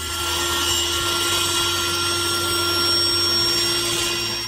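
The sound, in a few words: saw cutting wood for folding steps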